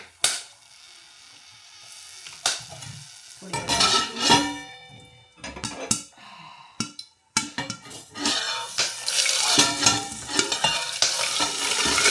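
Green and dried chillies hitting hot tempering oil, bursts of loud crackling sizzle broken by spoon-and-pan clatter and stirring, the frying swelling into a denser, continuous hiss toward the end.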